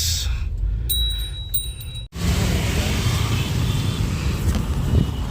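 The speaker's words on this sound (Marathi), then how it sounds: "आता इथं ट्रॅफिक जाम झालं ॲक्च्युली मॉलच्या इथेच" Road traffic is jammed near a mall during the Ganesh Chaturthi festival. A steady wash of engine and wind noise is broken by a brief dropout, with faint tonal beeps early on.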